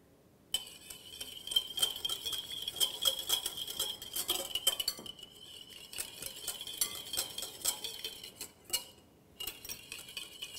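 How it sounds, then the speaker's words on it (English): Oil being gradually whisked with Dijon mustard into a salad dressing, a whisk ticking rapidly and continuously against a bowl, close and fairly quiet, with a brief pause midway. "we will just keep whisking it until we have a nice dressing fully combined"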